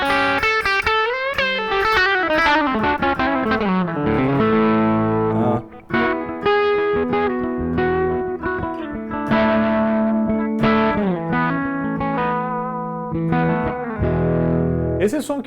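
Electric guitar played through FlyRig effects pedals and plugged straight into an audio interface, loud and continuous with distortion, reverb and chorus-like shimmer as a melodic lead line slides and bends.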